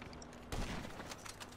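A sniper rifle shot in GTA 5 gives one loud broadband crack about a third of the way in, followed by a short rumbling tail over quiet game ambience.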